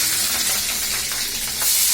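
Two green chilies frying in hot oil for channa masala, giving a steady, close crackling sizzle that fills the whole moment with no voices.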